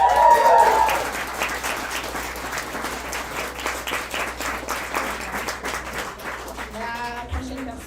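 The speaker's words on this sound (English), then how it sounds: "Applaud the poets." Audience at a poetry slam applauds the poets after their scores are read, a dense steady clapping that starts loud, eases slightly and carries on, with a brief voice near the end.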